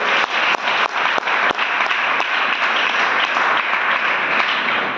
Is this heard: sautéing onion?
no